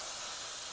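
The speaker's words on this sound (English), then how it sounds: "Clean it off with brake clean." Brake cleaner sprayed from an aerosol can onto a rear drum brake wheel cylinder on a Honda Civic, one brief steady hiss, close and alone.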